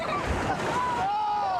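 Rushing, churning water on the Thunder Rapids raft ride at Lake Compounce amusement park in Bristol, Connecticut, a broad steady roar heard briefly beneath a narrator's voice.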